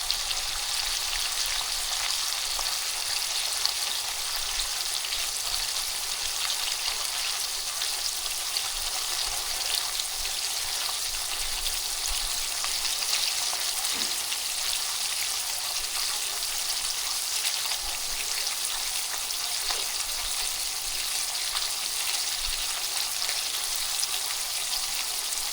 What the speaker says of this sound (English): we brown the ground beef. So let's let it sit there for a minute and get browned up